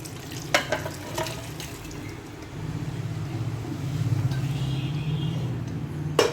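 Cooked mutton is poured into a pot for biryani and stirred well, a soft continuous scraping and sizzling churn close by with a few clinks near the start.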